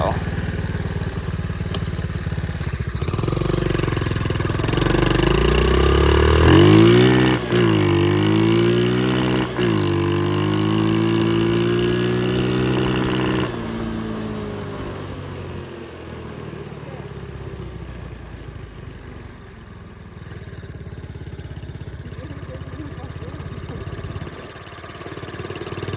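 A pit bike motorcycle engine runs close by, revving up to a loud rising and falling whine, then settling to a quieter rough idle; faint talk mixes in underneath.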